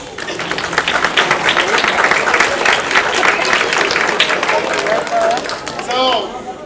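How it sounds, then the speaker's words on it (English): Audience clapping at a beginner school band concert, a steady wash of applause that runs loud and even for several seconds before tapering, with a few voices at the end. "Can you give a round of applause?"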